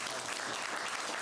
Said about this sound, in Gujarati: તાળી પાડી છે